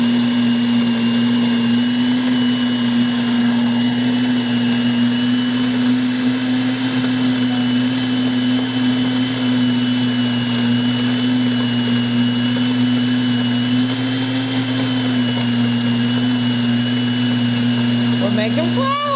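A NutriMill Classic electric grain mill grinding wheat into flour, set to a middle grind, gives a loud, steady, unbroken motor whine with a constant hum that runs the whole time.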